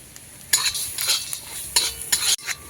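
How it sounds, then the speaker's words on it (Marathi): Crushed turmeric roasts in plenty of oil in a kadhai, with a sizzling hiss and bursts of loud metallic scraping and stirring strokes against the pan, close and without speech. "आता हे हळकुंड भाजून घेते"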